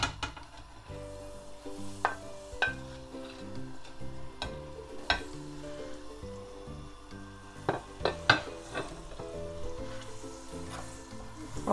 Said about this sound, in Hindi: घी जब अच्छी तरह गर्म हो जाए तो हम इसमें खजूरें डाल देंगे।